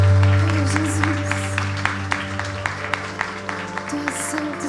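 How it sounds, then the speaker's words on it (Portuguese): Church congregation applauding during a communion service, scattered claps ringing out over sustained organ or keyboard chords and a steady musical backdrop throughout. "E você pode aplaudir a esse Deus."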